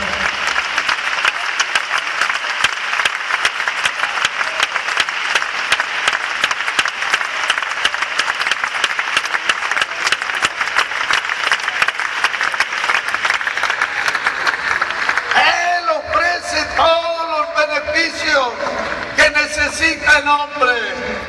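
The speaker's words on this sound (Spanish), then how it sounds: "Yo creo que sería bueno darle un aplauso." A congregation at a church convention breaks into sustained, even applause for about fifteen seconds, after which a voice takes over as the clapping fades.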